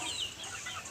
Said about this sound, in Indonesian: Itu ayam. Ayam.